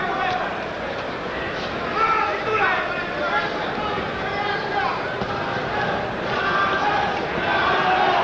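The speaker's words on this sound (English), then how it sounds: "Crowd starting to chant Chavez, Chavez." A boxing arena crowd chants for Julio Cesar Chavez in a steady, rhythmic roar during his fight with Sammy Fuentes, with a commentator talking over it.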